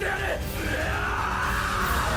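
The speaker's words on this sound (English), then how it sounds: "You can, like, tone down the screaming on this trailer." Dramatic screaming and yelling from an anime trailer, a loud sustained cry mixed with music and effects, with no clear talk.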